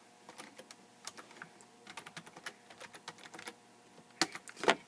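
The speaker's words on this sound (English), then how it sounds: "I can use this nice Bluetooth keyboard without a wire." Rapid clicking of keys on a Bluetooth keyboard, close and fairly quiet, with irregular bursts and a couple of louder key strikes at the end.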